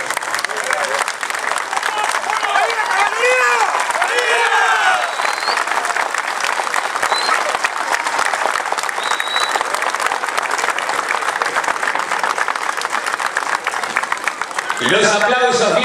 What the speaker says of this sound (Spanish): Los aplausos bien fuerte